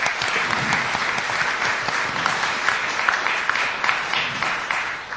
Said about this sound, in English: I'd like you to get a big round of applause from the audience